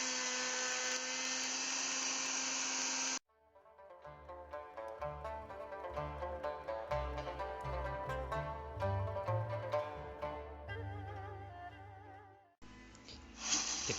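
A router cutting a circular groove in wood for a wooden lazy Susan bearing whirs and chatters unevenly for several seconds, between stretches of a steady high-pitched motor whine.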